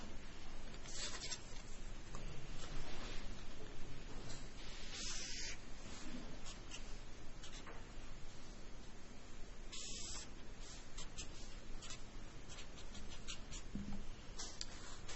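A marker draws a transversal line on a board, heard as repeated soft squeaky scratching strokes in short bursts over a quiet, steady room hiss, with no talking.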